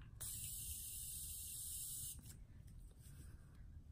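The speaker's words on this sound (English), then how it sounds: "it's the Morphe aerosol setting spray, which is horrible for the environment" A Morphe aerosol setting spray releases one steady, loud hiss lasting about two seconds, then cuts off, leaving faint rustling and a low background rumble.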